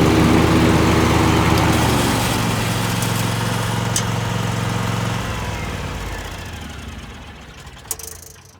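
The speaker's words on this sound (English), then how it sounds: "Mower has to be running, and you pull up on this knob here, blades will engage." A church's riding lawn mower runs with its blades engaged, a loud, steady engine drone with harmonic hum that drops in pitch and eases off after about five seconds, ending with a brief click.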